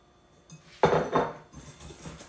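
A utensil clinks and scrapes in a bowl while pecan pie filling is mixed with melted butter, starting with a sharp knock followed by a few brisk scraping strokes near the microphone, with no talking.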